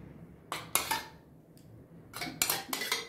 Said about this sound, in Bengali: 3 চামচ মতো দই দিয়ে দিলাম।